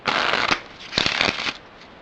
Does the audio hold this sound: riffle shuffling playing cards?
yes